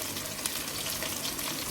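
Brinjal pieces dropped into a hot pan with oil and whole spices like cloves, cinnamon and cardamom, giving a dense, steady close-up sizzle and hiss throughout.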